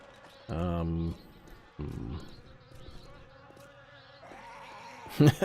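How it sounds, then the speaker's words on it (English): Insect-like buzzing from a swarm of bees in the video game 7 Days to Die, a droning hum that swells and fades across several bursts alongside other game sounds. "Now apparently that must be some kind of swarm of bees or something."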